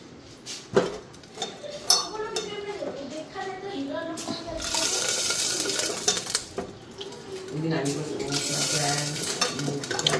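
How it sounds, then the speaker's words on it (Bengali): Water and lentils poured into a cooking pot, with clattering pot and utensil knocks, stirring and a steady sizzling wash in the middle and end, close and fairly loud beside casual talk. "তো এখানে জলটা দিয়ে দিলাম মানে ডালটা দিয়ে দিই"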